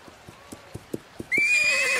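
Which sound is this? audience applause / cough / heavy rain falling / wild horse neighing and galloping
wild horse neighing and galloping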